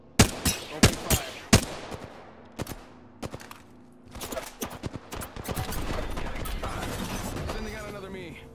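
Gunfire in the video game Apex Legends, sharp loud shots in bursts early on, then denser rapid fire with mechanical clatter and game voices.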